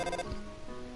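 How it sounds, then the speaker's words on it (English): A telephone ringtone from the video game Undertale chimes in a short tonal burst near the start, then fades under the quiet game music with no talking. "Oh, we've got a phone call."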